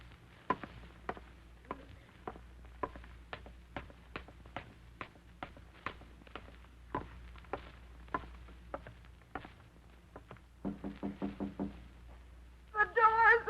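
Sharp, evenly spaced knocks on a wooden door, a radio drama effect, tap on steadily for about ten seconds, then quicken into a faster flurry before a voice speaks at the end.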